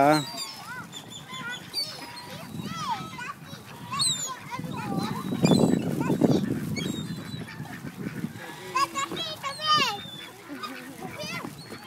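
Ducks and geese honk and quack repeatedly nearby while children chatter and shout over them, with a busy, noisy outdoor feel.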